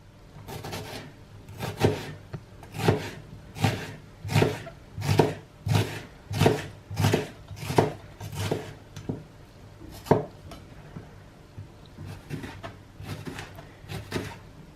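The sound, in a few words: knife finely chopping onions on a board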